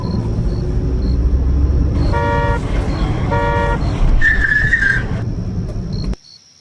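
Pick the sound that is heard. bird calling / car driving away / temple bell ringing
car driving away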